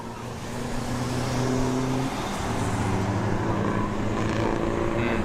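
Race cars and trucks on a racing circuit, engines droning and blending into a continuous mid-distance roar with a few tonal engine notes rising and falling as vehicles pass, no voices over it.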